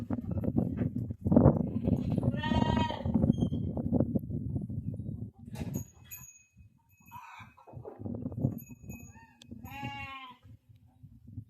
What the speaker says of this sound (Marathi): मेंढीचे पिल्ले आहेत बघा, 70-80 पिल्ले.